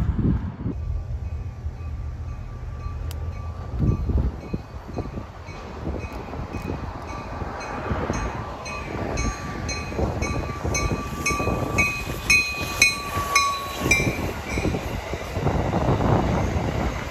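An Amtrak Downeaster passenger train passes near Rigby Yard, a steady rumbling roll with clattering wheels on rail joints and a rising hiss that builds toward the end; wind noise runs throughout.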